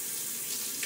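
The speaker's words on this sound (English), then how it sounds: "So it looks like maybe I do need to add even more water to my bowl." A thin stream of water pours into a shaving bowl, a smooth, continuous hiss with no break, close and fairly loud.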